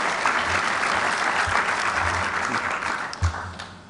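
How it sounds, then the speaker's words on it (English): Sustained audience applause at a religious keynote event, steady and dense throughout, fading slightly toward the end, with a faint voice briefly underneath. "just like us to give Sister Norma Pimentel another round of applause for the wonderful work that she's done"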